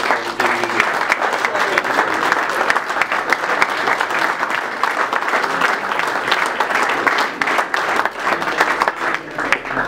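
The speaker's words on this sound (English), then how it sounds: "we want to thank you for applauding." Applause at a banquet VIP reception, many people clapping steadily and fairly close for a sustained stretch, with faint murmuring voices mixed in.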